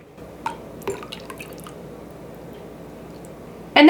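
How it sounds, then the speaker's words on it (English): Strained turkey gravy is poured carefully from a vessel into a pot in a home kitchen, giving a few soft, separate drips and splashes before a sudden louder gush of liquid at the very end. "we could probably pour it into here."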